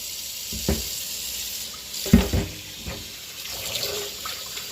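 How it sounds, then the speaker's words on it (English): Tap water runs into a kitchen sink after a meal, a steady close hiss and splash with a few gurgling surges, heard alone without talking. "Turn on the water."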